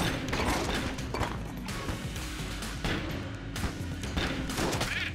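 Rapid gunfire from the Skull Splitter in Enter the Gungeon, a steady barrage of shots with mechanical clatter and impacts running continuously over music, loud and close.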